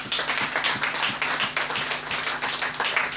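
A church congregation claps together in a steady, fairly even rhythm, a continuous patter of many hands heard at moderate distance with no talking over it.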